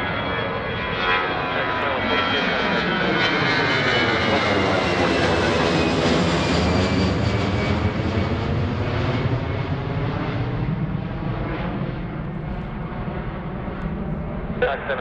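A jet airliner takes off from runway 16 at Washington Reagan National Airport, its engine roar swelling loud and close and then slowly fading as it climbs away, with a faint radio voice in the background.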